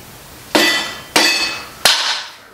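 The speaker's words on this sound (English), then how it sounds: "Just gonna whack it with this hammer" Hammer blows on an engine part during an engine teardown involving exhaust, pushrod covers and lifters: three sharp metallic strikes, evenly spaced about half a second apart, each ringing briefly before the next.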